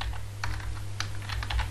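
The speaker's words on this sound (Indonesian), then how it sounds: "Pertama, silakan diketik ya di sini." Light, scattered keystrokes on a computer keyboard while entering data into a Google Sheets form, soft and close over a steady low electrical hum.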